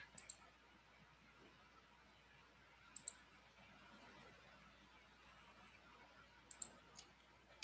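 Computer mouse clicks while modeling a bottle in Autodesk Maya: faint, sparse double clicks near the start, around three seconds and again near six and a half seconds, over a quiet room hiss.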